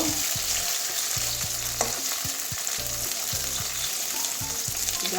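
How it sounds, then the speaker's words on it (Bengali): Salted eggplant fries lightly in a pan, a bright steady sizzle with rhythmic low scrapes and knocks of a spatula turning the pieces, close and continuous. "হালকা একটু ভেজে নেব কাঁচা গন্ধটা যাওয়া পর্যন্ত"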